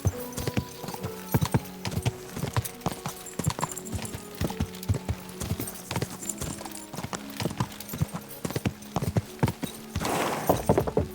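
A horse's hooves clip-clop in a steady, close, rhythmic gait in the video game Kingdom Come Deliverance II, with a faint breathy snort near the end and no speech.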